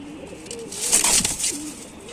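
Pigeons at a pigeon loft: a few low, wavering coos close by, with a brief burst of rustling and a faint high squeak in the middle.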